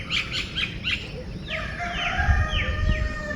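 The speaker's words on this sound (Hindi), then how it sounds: "चौराहे पे फ़िलहाल सुर्ख रंग के मुर्गे का राज है" A rooster crows nearby, its drawn-out call rising and falling, with other fowl clucking faintly amid outdoor background noise.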